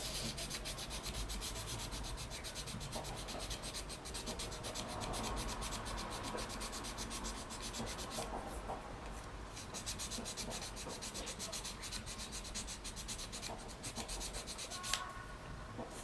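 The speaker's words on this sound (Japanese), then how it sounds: "ラッカパテの方が固まったので削っていきます" Hardened lacquer putty being sanded on a model fighter jet, a continuous close rubbing and scratching with a steady back-and-forth texture, faint and alone.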